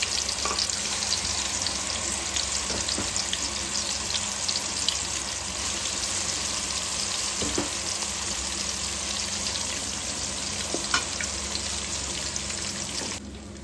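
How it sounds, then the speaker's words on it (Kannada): Ginger garlic paste and spices fry in hot oil in a pan for chicken fry, giving a loud, steady sizzle throughout with occasional faint stirring scrapes and no voices. "ಶುಂಠಿ ಬೆಳ್ಳುಳ್ಳಿ ಪೇಸ್ಟ್ ಹಾಕ್ಕೊಂಡು ಅದರದ್ದು ಹಸಿದು ವಾಸನೆ ಸ್ಮೆಲ್ ಹೋಗೋವರೆಗೂ ಚೆನ್ನಾಗಿ ಎಣ್ಣೆಯಲ್ಲಿ ಫ್ರೈ ಮಾಡ್ಕೊಳ್ಳಿ"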